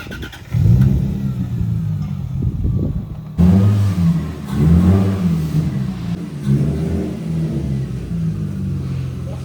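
Nissan 240sx engine revving in bursts as the car rolls, a loud, close low rumble that swells and eases several times with no talk over it.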